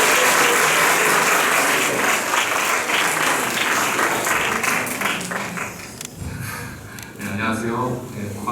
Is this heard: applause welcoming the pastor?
yes